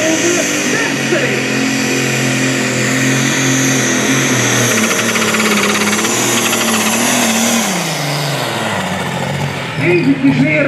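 A Limited Superstocks pulling tractor's engine revs hard and drones steadily at a tractor pulling event in Lochem, its pitch shifting slightly and dropping near the end as the engine partly slips, straining under load.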